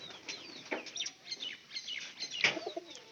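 Domestic pigeons in a loft flap their wings and chirp, giving quiet, close fluttering bursts and soft calls that come in short irregular clusters.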